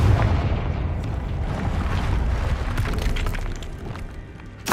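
Confringo blasting spell in Hogwarts Legacy, a loud sustained rumbling blast that fills the whole stretch with dense low crackle and debris noise, fading slightly before a fresh burst at the end.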